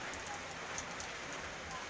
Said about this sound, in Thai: ฝนตกพี่น้องฝนตก